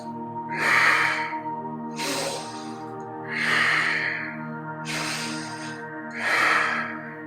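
Five strong, rhythmic breaths, forceful nasal exhales alternating with inhales over a steady background hum, during a power yoga flow with no talking.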